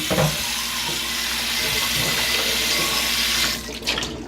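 Tap water runs steadily into a kitchen sink as a frying pan is rinsed out, a continuous close splashing rush that thins near the end with a few light clatters.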